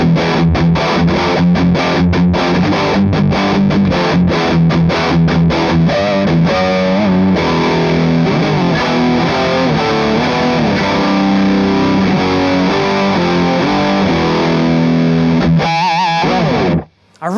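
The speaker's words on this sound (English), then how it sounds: "You can play a chord with a lot of distortion." An electric guitar plays heavily distorted chords through an Orange Rocker 15 Terror head at full gain into a 2x12 cabinet. Fast, choppy chugging strums give way to a loud, sustained ringing chord that stops abruptly near the end.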